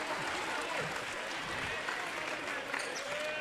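Excited crowd in a gym applauds and cheers after the district runner-up is announced at a 2A-3 district championship, a steady wash of clapping at moderate level with voices mixed in.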